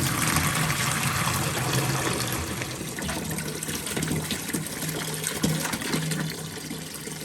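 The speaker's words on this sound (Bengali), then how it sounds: "অনেকে হয়তো ভাববেন যে বালতির মধ্যে কেন শাক ধুচ্ছি" Leafy greens are washed in a bucket of water, heard as a continuous close splashing and trickling, with small sloshes and drips and no talk.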